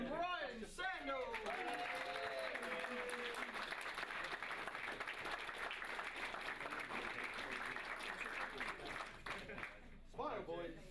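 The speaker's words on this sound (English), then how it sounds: "big round of applause, goes to Ryan Sandall" A crowd claps in sustained applause for the heavyweight class winner at the Buckmore Park Kart Circuit race of champions, steady and loud for about ten seconds, with voices briefly at the start and end.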